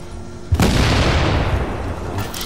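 A C4 charge detonates in the video game The Division on PS4: a sudden deep blast that swells into a long, heavy rumbling roar, loud and without talking.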